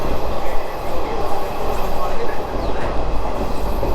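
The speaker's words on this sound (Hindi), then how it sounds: "अब ये ट्रेन फुल स्पीड में जाएगी।" A local passenger train on the Delhi to Gurugram line runs at full speed through east Delhi, giving a loud continuous rumble with rhythmic wheel clatter and faint squeal close by.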